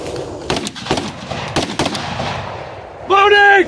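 Gunfire during night-fire shooting training, several sharp close shots spaced across the first two seconds, followed by a brief tonal sound at the end.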